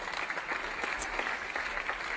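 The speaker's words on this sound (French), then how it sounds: "Vous pouvez l'applaudir très fort, voici ma 2e volontaire." Children and adults in a magic show audience clap warmly for a volunteer on stage, a brisk, continuous patter of many hands at moderate loudness with no voices on top.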